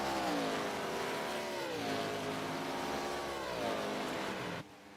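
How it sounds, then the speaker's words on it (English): Race car at Pocono Raceway in an FMA John Dobias Cup Series race, engine droning loudly and steadily with pitch swoops as tires slide through turn 1, then the sound drops off abruptly near the end. "you can definitely hear them tires sliding."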